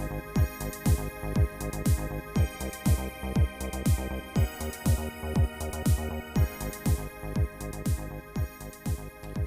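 A Roland JD-Xi synth verse sequence for a cover: a steady looping pattern of deep pulsing bass notes and bright synth stabs in an even, repeating rhythm, playing alone at moderate volume.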